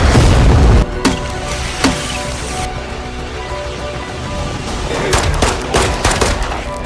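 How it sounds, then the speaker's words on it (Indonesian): Loud bursts of rapid gunfire in a war film crackle close by, opening with a heavy boom and returning in clustered volleys toward the end. "Taylor langsung mengeluarkan jurus tembakan Zeus untuk menghancurkan anak buah Jurab yang bengal."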